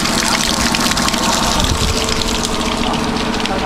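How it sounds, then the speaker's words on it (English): Water gushes and splashes steadily nearby on Mount Zwegabin, Myanmar, a continuous rushing flow with no voices. "refreshing water"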